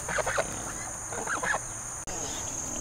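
Hens clucking and calling as they come out of their coop on a homestead, several short bursts close by over a steady high background hum, with faint speech-like sounds mixed in.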